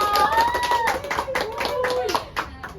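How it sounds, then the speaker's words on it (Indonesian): Children clapping at a Scout assembly, a burst of quick hand claps heard under and between an adult's amplified talking, fairly close and lively. "Tepuk tangan, tepuk tangan"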